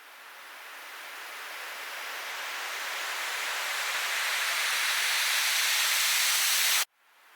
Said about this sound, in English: It's actually adding a little bit more character to that riser. So yeah, that is distortion.